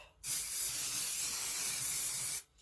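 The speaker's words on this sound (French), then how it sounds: "je vais prendre ma fausse neige comme d'habitude et une bombe par-dessus" An aerosol can of fake snow sprayed in one continuous hiss of about two seconds, close and steady, starting and stopping abruptly.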